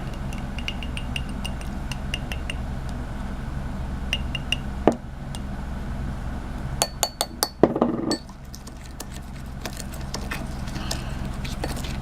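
Rabbit burger seasoning of onion and garlic powder being mixed in a glass bowl, with scattered light clinks of a utensil against the glass over a steady background hum, then a quick cluster of sharper taps near the end.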